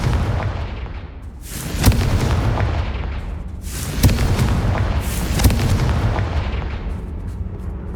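Repeated fiery blasts from the Confringo spell in the video game Hogwarts Legacy, with three loud booming impacts at steady intervals over a continuous rumbling din of combat.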